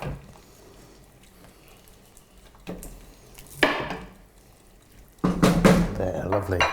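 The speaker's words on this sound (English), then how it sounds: "So we're just going to empty that into our pot" Chopped carrots and broccoli tumble into a pot with a couple of clattering, splashy bursts, the last one longer and louder, while people talk nearby.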